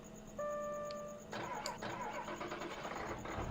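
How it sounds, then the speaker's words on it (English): Diesel tractor engine in Farming Simulator 2013 cranking and catching, a brief tone followed by a rough rattling start that settles into a steady mid-pitched idle. "Yep, sounds like a diesel."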